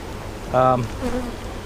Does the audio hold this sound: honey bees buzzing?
yes